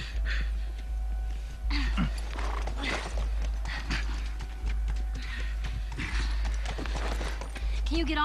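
Horse hooves clip-clopping in The Last of Us video game, a steady walking rhythm under a low engine-like hum, with a player talking over the top.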